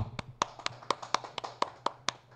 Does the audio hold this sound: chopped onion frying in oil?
no